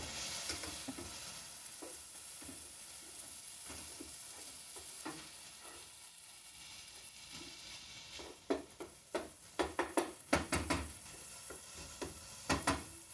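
Soft, low sizzling of garlic in a pan underneath, then several sharper scrapes and clinks of stirring near the end.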